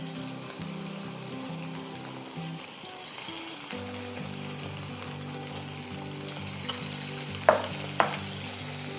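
Chicken pieces for hotel-style chilli chicken sizzle steadily in hot oil, a dense crackling hiss that runs throughout, with a couple of sharp taps of a utensil near the end.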